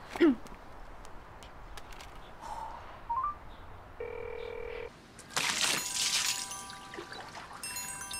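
A telephone being dialed in a quiet room, a series of short touch-tone beeps and keypad presses scattered among faint handling noises, followed by a brief ringing tone near the end.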